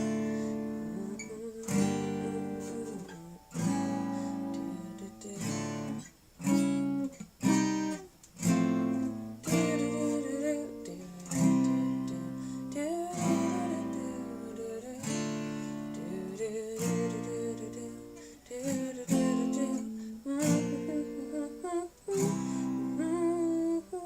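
Acoustic guitar strums sweeping chords on each change, a rhythmic run of bright strokes separated by short pauses, played alone at moderate loudness without any voice.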